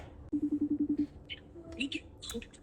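A phone being dialed to call family, a quick run of about eight evenly spaced keypad tones, followed by faint ringing-line sounds and low background noise.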